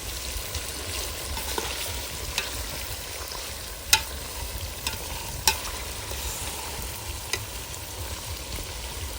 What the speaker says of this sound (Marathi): तर हे ते अशा प्रकारे परतून घ्यायचं एकदम हे मटन चिकन हे करून दहा मिनटं झालेले आहेत